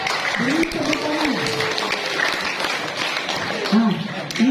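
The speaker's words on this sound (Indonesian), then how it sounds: "Beri tepuk tangan." Students applaud at a school orientation, steady clapping running throughout while someone speaks over it.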